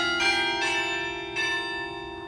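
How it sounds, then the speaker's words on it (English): Church bells ring inside a chapel tower in the Arctic, close and loud, with sustained overlapping tones and two fresh strikes over a long ringing decay. "We even stayed to hear the bells."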